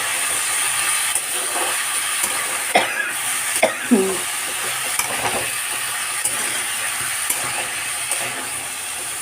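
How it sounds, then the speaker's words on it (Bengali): Chopped mixed vegetables fry in a pan while being stirred, giving a steady close sizzle broken by several scraping and clattering knocks of the spoon, with a brief cough partway through. "এই মিক্সড সবজি যে কাটা আছে এটা দিয়ে দেব। দিয়ে একটু নাড়বো,"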